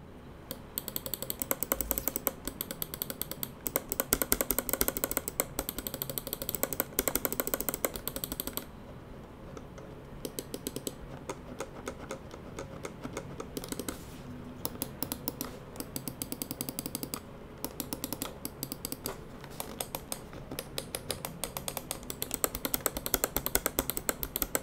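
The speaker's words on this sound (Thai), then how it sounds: "เดี๋ยวเราลองไปฟังเสียงคลิกเมาส์กันบ้าง" Rapid bursts of sharp, close clicking from an Onikuma KIKU gaming mouse, dense and busy at times, then sparser single clicks, with a short quieter lull midway.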